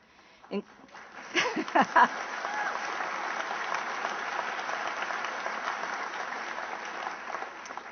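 A graduation commencement crowd breaks into steady applause after a few scattered claps, the clapping sustained and fairly loud for several seconds.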